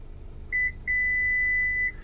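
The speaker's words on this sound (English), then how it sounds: "You'll hear it beep saying that's acknowledging you're changing that position." Confirmation beeps from a Subaru's garage door opener memory setting: one short electronic tone, then a longer sustained beep lasting about a second, clean and moderately loud over faint background hiss.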